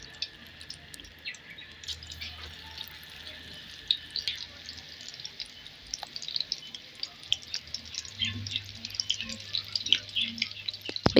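Dough frying in a pan on an Egyptian breakfast stovetop, a thin steady sizzle with scattered crackling pops throughout, fairly faint and close, with no talking over it.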